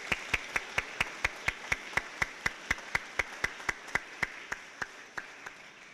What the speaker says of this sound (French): Je pense qu'on peut les applaudir et les encourager dans leur service.